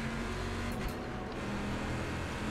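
Race cars in the iRacing sim game roar past in a steady, loud engine drone with a brief whoosh of overtaking, with no voices.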